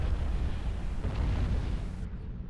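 A commander unit blows up in Supreme Commander 2, a dense, heavy explosion rumbling loudly and steadily for a couple of seconds before the top end drops away.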